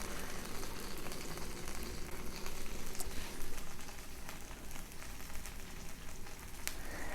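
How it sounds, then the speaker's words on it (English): Fish wrapped in banana leaf sizzling on a hot iron griddle, a steady, dense crackling hiss that holds at an even level throughout, with a couple of faint sharper pops. "now we are going to grill it with the banana leaf"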